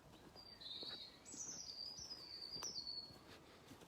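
Birds sing in a series of high, thin chirping phrases, fairly distant, over a soft steady outdoor hum of lawnmowers.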